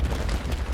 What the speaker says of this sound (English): So if I just ignite this TNT